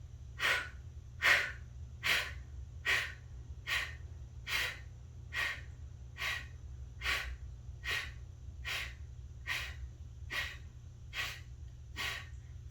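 Slow deep breaths in and out during a stress-relief breathing exercise, a steady run of about fifteen soft airy breaths over a low hum, close and unhurried, with no talk.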